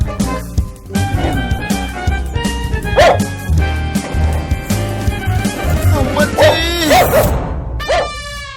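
A dog barks repeatedly and loudly nearby in quick yipping bursts, with whining yelps and background voices mixed in.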